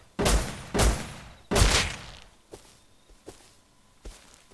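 Unsilenced gunfire in the survival game Rust: three loud close shots in quick succession, followed by fainter, sparser thumps and cracks.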